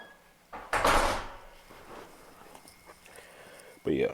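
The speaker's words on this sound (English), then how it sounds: "Can you shut the door?" A door in a home is pushed shut with one loud, close, heavy thud, followed by quieter shuffling and ends with another sharp knock.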